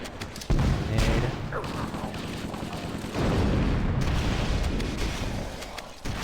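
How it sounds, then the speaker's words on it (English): Grenade blast in Halo during a Flood bridge checkpoint run, a heavy boom rising out of sustained gunfire and explosions that keep up a loud, dense combat wash throughout, with a second strong burst midway. "Grenade."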